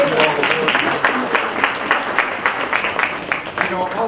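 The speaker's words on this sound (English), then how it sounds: "Let's give them a round of applause." Audience applause at a community gathering, a steady patter of clapping hands running throughout at moderate loudness, with voices talking over it.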